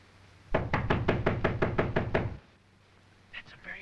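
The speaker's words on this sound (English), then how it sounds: "That's a very unfriendly knock." A firm run of about ten rapid, evenly spaced knocks on a door, loud and close, in a 1930 Harold Lloyd comedy, followed by a brief quiet rustle.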